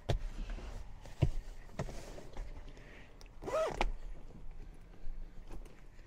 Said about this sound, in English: And then the final step will be the side zipper.